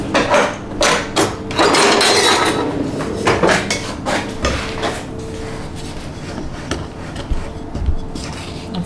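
Utensils clatter and knock in a kitchen drawer while someone rummages for a wooden spoon. Bursts of rattling and clunking come close together, then ease into softer shuffling, with no talking.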